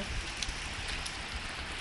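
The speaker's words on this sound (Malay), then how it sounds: "Hujan gila." Heavy rain pouring down outdoors on the way to a prayer house, a dense, steady hiss of drops close by with no voices.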